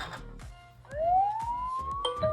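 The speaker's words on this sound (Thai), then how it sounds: "ตัวกล้องก็จะทำหน้าที่เป็นอะลามเตือนนะครับ ก็มีเสียงไซเรนดังขึ้นมา แบบนี้" A SONOFF CAM Slim Wi-Fi security camera's loud electronic alarm siren, triggered by a door opening, wails and rises in pitch, cut by repeated sharp beeps and clicks, with no talking.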